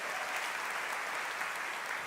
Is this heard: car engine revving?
no